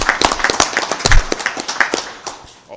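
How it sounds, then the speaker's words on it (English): At a city council meeting, a small audience gives a short burst of scattered hand clapping, a couple of seconds of quick claps that thin out and fade. "let's give her a round of applause"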